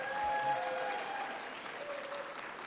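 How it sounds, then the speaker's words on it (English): An audience at an award ceremony claps in a dense, sustained round of applause that starts loud and eases slightly, heard from within the hall. "You have to clap now."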